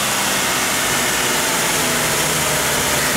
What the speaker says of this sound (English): that little teeny thing will start this four liter engine over and over and over